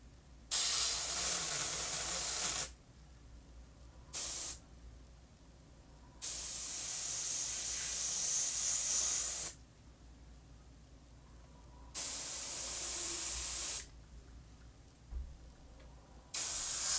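An airbrush hisses in repeated spray bursts of a couple of seconds each, separated by pauses, loud and close with a steady broadband rush.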